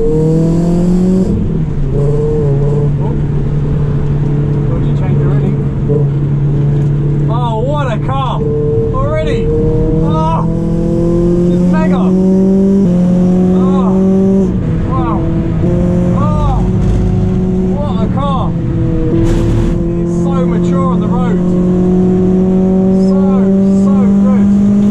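A Renault Clio 200 Cup pulls away under heavy, steady engine drone from inside the car, with rising revs and repeated gear changes through the run while someone speaks over the noise.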